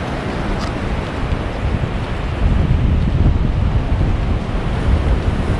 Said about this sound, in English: Hopefully you can still hear me over the wind.